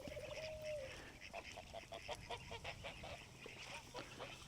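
Ducks quack and honk in rapid, agitated bursts at moderate distance as a dog chases them outdoors near a driveway, a flurry of calls over low ambient background.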